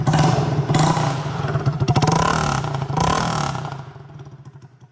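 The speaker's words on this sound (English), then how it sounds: "We'll do the RPMs all the way up through them again. There's idle." A 2022 Honda Grom with a new exhaust rumbles loudly at idle, then revs up in a few throaty bursts before settling and fading off.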